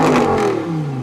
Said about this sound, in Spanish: Escucha cómo suena este coche en modo Corsa.